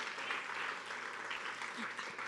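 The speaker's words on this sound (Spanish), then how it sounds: "Dele un aplauso al Señor." Worshippers in a church service clap in a steady, soft wash of applause that sounds somewhat distant, with faint voices blended underneath.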